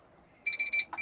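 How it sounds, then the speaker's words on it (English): A timer alarm marks the end of a writing sprint, beeping in three quick, loud, bright bursts and then starting a fourth, with no talk. "that's the timer for the first sprint"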